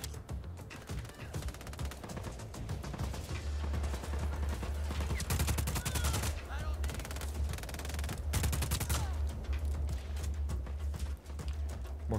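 Sustained automatic weapon fire in the video game Just Cause 4, long rattling bursts of rapid shots over a deep rumbling low end, heavy and close, with brief pauses between volleys.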